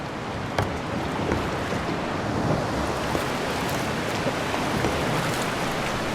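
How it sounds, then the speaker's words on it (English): Paddles pulling a river raft forward through the water in Ausable Chasm in the Adirondacks, a steady rushing, splashing wash with faint strokes, fairly loud and continuous and without talk. "can I get some paddles going forwards?"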